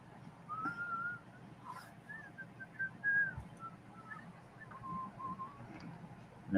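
A man whistles a tune softly, thin wavering melodic phrases drifting over a low background hum, fairly quiet and close with no talking.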